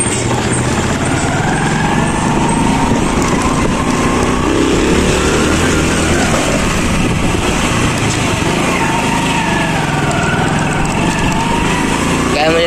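A vehicle engine drones steadily and loudly while driving during a water tank fill run, a continuous close hum with road noise, and a voice is heard over it.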